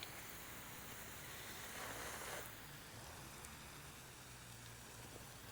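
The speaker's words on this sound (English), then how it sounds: "I've got the garden hose with a hand sprayer" A garden hose hand sprayer sends a steady hiss of water onto winter gloves, a continuous close spray that briefly swells louder midway before settling back to an even wash.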